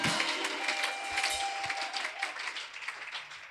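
Congregation applauding at a wedding blessing in a French-speaking church, steady broad clapping from many hands sustained throughout with no pause.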